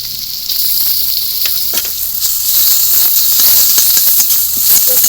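Garlic and onions frying together in hot oil for a Bengali-style rui fish curry, a continuous close, loud sizzle with scattered crackling pops.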